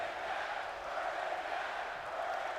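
Steady, distant-sounding arena crowd in WWE 2K22 chanting in a continuous broad roar, even in loudness throughout, with no distinct individual voices.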